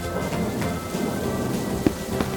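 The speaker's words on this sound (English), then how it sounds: "It's raining, and Peppa spots her rainbow umbrella." Steady rain patters continuously, with a few sharp cracks of thunder cutting through, one louder clap near the end.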